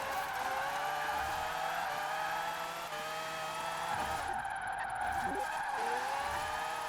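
Rotary-engined Mazda RX-7 in Forza Horizon 4, a steady high-pitched engine whine holding near redline with shifting pitch and brief tire squeal, continuous and even in loudness.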